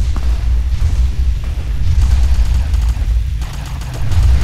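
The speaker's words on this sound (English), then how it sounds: "Yeah, explosion." Video game explosions in Fallout New Vegas, a dense continuous rumble of booms and blasts with heavy low-end roar swelling and surging throughout, loud and close with no talk.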